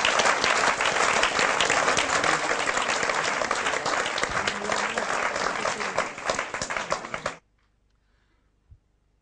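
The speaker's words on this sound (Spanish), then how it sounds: "Denle un aplauso al Señor" A church congregation applauds, a loud, dense, steady clapping that fills the room for about seven seconds and then stops abruptly, followed by near silence with one faint low knock.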